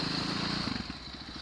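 A KTM 530 supermoto motorcycle engine drones steadily nearby, then its note shifts into a choppier, pulsing idle toward the end of the short stretch.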